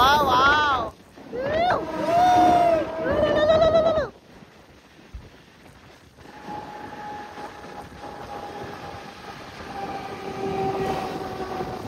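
A train passing through a tunnel near Matheran, Maharashtra, rumbles past with a steady, echoing roar, following a few seconds of excited voices talking at the start.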